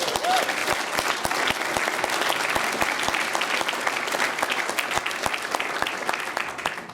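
A conference audience in Berlin applauds steadily, a dense, even wash of many hands clapping close by with no gaps, fading slightly at the end.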